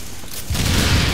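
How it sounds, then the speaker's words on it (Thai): A grenade or charge explodes in the co-op shooter Tom Clancy's The Division, a sudden broadband burst that swells into a sustained loud roar with heavy low rumble, amid ongoing gunfire. "เอ้าทำไมระเบิดล่ะ"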